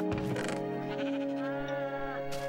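Sheep bleating in Minecraft, a pair of drawn-out, wavering bleats close up and fairly loud, with no talk over them.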